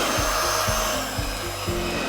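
A Lefant M320 robot vacuum running on a rug, its steady motor whir overlaid by a rhythmic rubbing, brushing pulse repeating roughly every half second, close and continuous.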